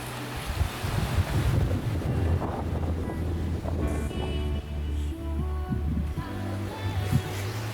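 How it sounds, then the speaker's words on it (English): Ocean waves rolling up behind a sailing boat on an open-sea passage from Ascension Island to Brazil, a steady rushing wash of water and hull noise mixed with buffeting wind on the microphone, continuous and fairly loud with no talk. "We have the waves directly behind us, so we're doing a little surfing."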